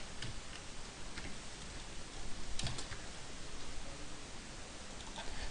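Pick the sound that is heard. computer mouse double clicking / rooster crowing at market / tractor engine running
computer mouse double clicking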